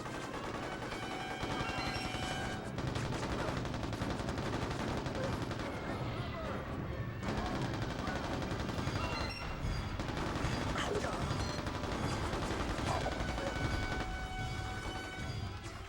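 Sustained gunfire from the video game Mercenaries: Playground of Destruction, with dense, continuous automatic bursts and explosive cracks filling the mix, loud and close throughout, set against game ambience and voices.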